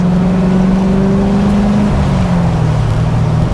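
A C4 Corvette with an LT1 V8 engine driving off, loud steady engine drone from inside the car with a pitch drop as it shifts, no voices.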